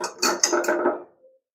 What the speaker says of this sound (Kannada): ಈಗ ತಗೊತಾ ಇದ್ದೀನಿ ಪಾತ್ರೆನ.